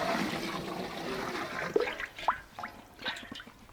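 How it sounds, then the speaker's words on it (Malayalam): Water pours and splashes into a rice pot while making chicken kabsa, a steady rushing flow that breaks into gurgles and trickling drips toward the end, fairly quiet. "കുറച്ച് വെള്ളം കൂടി നമുക്ക് ഒഴിച്ചു കൊടുക്കണം"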